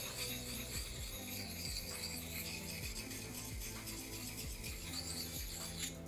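A knife blade, flat side and back, rubs against a gritty Viking whetstone pendant, producing close, irregular scraping and grinding strokes with a metallic rasp, alone without talk.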